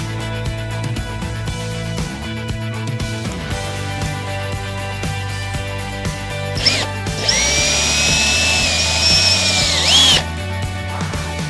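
A power drill bores a pilot hole for an 8mm dowel in a ContiBoard panel, its tool marked with tape as a depth stop. A steady, loud whine rises and holds for about three seconds near the end, over quieter workshop noise.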